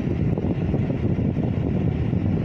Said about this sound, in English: Sorry about the wind, y'all, but I had to turn this AC on.